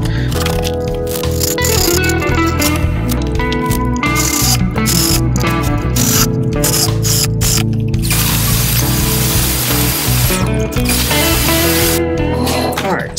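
A drill bores holes into a wooden pedalboard, with a loud grinding whine broken by repeated short bursts and pauses, bit crunching and chattering through the wood at close range.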